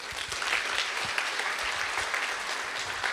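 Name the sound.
round of applause welcoming a keynote speaker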